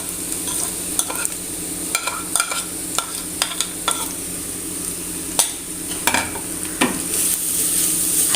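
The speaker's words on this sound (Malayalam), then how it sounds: "അതൊന്ന് വഴറ്റി കൊടുക്കാം." Onions sautéing with ground spice paste and turmeric for sardine peera, giving a steady close sizzle with frequent spatula scrapes and clacks against the pan in an uneven rhythm, with no talking.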